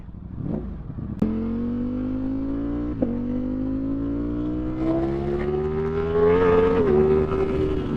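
A Ducati Streetfighter V4 motorcycle pulls hard under acceleration, its engine note climbing steadily through the revs with a couple of sharp gear-change blips, loud and close.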